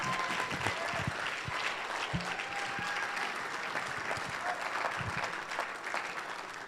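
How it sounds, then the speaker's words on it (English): Steady audience applause fills a room at a summer awards banquet, a dense wash of clapping that holds at an even level throughout, with brief voices and cheers rising under it. "Please join me in a round of applause"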